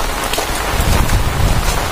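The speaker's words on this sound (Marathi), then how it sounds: "आणि अशा प्रकारे खूप पाऊस पडतोय।" Heavy first rain of the season in Rajapur, Konkan, drums down loud and close, a thick, rough roar of drops beating on surfaces with no voices over it.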